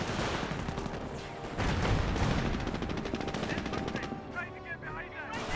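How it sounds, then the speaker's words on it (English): A German mortar half-track fires a barrage during a Company of Heroes 1 match, heard as dense, continuous gunfire and explosive thuds that fill the soundscape under talk. "Mortar half track is firing a barrage somewhere."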